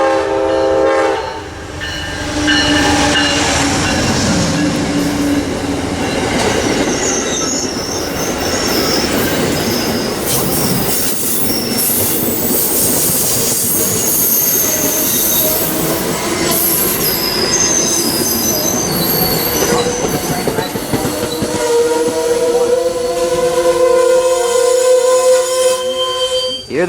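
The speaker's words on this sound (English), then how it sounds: "Here they are, pulling out Amtrak 89." Amtrak 89 passenger train pulls out of the station at Selma, with wheels squealing and screeching on the rails, clattering cars and a horn sounding, loud and close throughout, with no voices.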